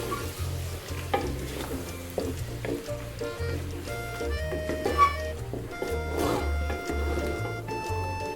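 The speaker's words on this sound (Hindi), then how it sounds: "और मसाले की हम अच्छे से भुनाई कर लेंगे।" Beef and spices with turmeric, tomato, green chillies and a splash of water being stirred and fried in a pot for biryani, with steady sizzling, repeated stirring scrapes and clinks close up, and no talk.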